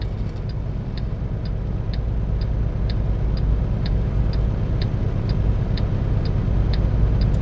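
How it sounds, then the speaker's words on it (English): Road traffic in a small town on a New Year's Eve night, a constant low rumble of passing vehicles heard from inside, with a steady regular ticking like a turn signal or clock over the hum. "But all this traffic, man."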